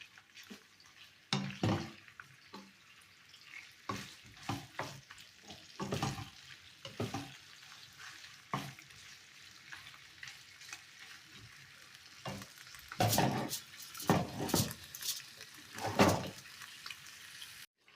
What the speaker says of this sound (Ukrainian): І тепер то в мене м'ясце підсмажується